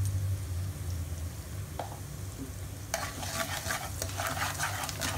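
Whole spices crackle and sizzle in hot oil in an Indian home kitchen, with asafoetida added, while a spoon stirs steadily; the frying grows louder and denser in the second half, close and alone without talk.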